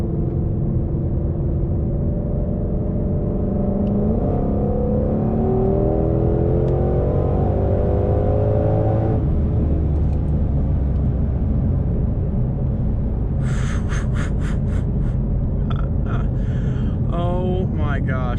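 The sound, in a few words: Ford Shelby GT500 engine and exhaust while accelerating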